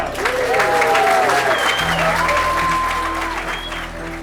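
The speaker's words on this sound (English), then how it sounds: "Yeah, give him a cheer." Wedding guests at Slaughters Manor House cheer and applaud loudly and continuously, steady clapping filling the room with whoops rising above it, then easing slightly toward the end.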